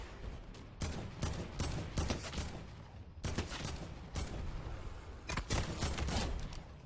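Rapid bursts of gunfire from a Fortnite Battle Royale match, loud and close, with several dense volleys of shots broken by short pauses.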